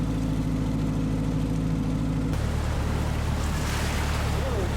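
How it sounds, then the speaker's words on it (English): Choppy river water slaps and washes around a boat on a wide Mekong channel among small islands in Champasak, Laos, with steady engine hum and wind noise throughout. "The water's choppy here."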